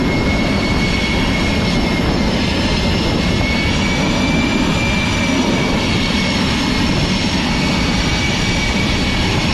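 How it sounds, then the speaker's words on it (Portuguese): A steady, loud aircraft engine roar as an airplane is parked, holding a constant drone with a sustained whine above it for the whole stretch and no voices. "Estacionou o avião perfeitamente."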